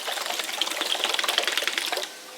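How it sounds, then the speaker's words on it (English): A can of paint for truck accessories is shaken hard and fast, giving close, rapid rhythmic rattling for about two seconds before it stops. "let me shake this paint up"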